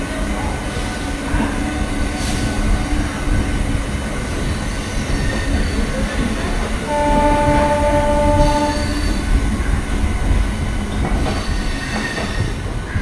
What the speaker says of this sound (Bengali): এখন আমাদের ট্রেন সাঁতরাগাছি শালিমার লোকাল ছাড়ছে সাঁতরাগাছির 1 নম্বর প্ল্যাটফর্ম থেকে।